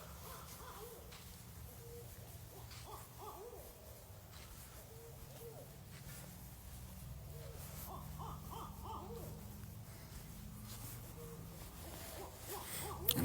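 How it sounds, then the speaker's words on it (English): Several owls hoot outdoors at a moderate distance, their repeated calls rising and falling over a low steady background hum, with no talk over them. "Look at all these owls out here."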